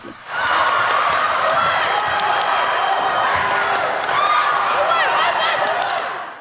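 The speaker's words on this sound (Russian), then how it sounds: "В зале перекликаются голоса болельщиков, в первых рядах которых тренеры и родители" Fans cheer and shout in a school gym during a tug-of-war contest, with coaches and parents among them. A loud, steady crowd roar with overlapping voices and whistles holds for several seconds.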